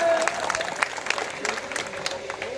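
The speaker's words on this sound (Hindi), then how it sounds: "इनके लिए ताली बजाएं" An audience claps steadily for a performer at a stage event, a dense close burst of applause with scattered louder claps, and a voice carrying faintly beneath it.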